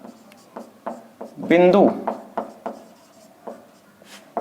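Chalk or pen strokes writing maths working on a board or paper, short scratchy taps repeating through the clip, with someone talking over them partway through.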